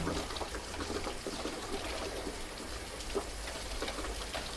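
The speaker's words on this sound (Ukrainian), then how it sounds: "Ти чуєш, як починається дощ." Light rain patters steadily on a surface, soft and continuous with scattered drops, no other sounds.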